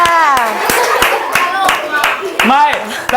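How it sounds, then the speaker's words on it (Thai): Children clap their hands in a quick run of sharp, evenly spaced claps. Excited children's voices and calls sound over the clapping throughout. "ถ้าสนุกปรบมือให้กับตัวเองหน่อยค่ะ"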